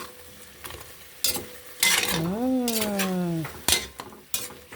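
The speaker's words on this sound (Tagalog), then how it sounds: "And mix." A spoon clatters and scrapes against a pot while pork sinigang is mixed, in sharp irregular knocks, with a drawn-out tonal squeak or whine in the middle.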